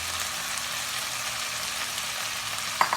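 Capsicum and finely chopped onion frying steadily in a hot pan, a continuous close sizzle with a low hum underneath and a couple of sharp utensil taps near the end.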